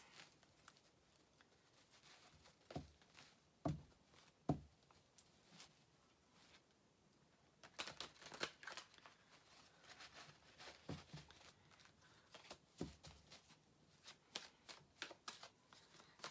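New tarot cards are shuffled in soft, quiet bursts of riffling and patter, with pauses between, close up and alone without talking.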